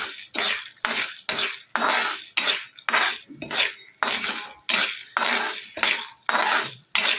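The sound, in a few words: popcorn kernels with salt and turmeric stirred while frying in pan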